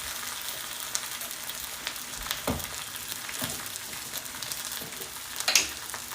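A stir fry sizzles steadily in a cast iron pan, a constant hiss of frying with occasional taps and scrapes of stirring, fairly quiet with no talk.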